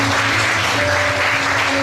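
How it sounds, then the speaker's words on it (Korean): A church congregation bursts into steady, loud applause during a worship service, a dense continuous clatter of many hands clapping close by with no pauses. "우리 하나님께 박수하시겠습니다."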